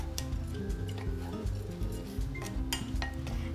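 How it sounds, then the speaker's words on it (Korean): Rice is stir-fried in a pot, stirred continuously, giving soft scraping and light clinks of a utensil against the metal, close and fairly quiet, under a low background hum. "쌀을 넣고 서로가 어우러지게끔 같이 볶아주시면 됩니다"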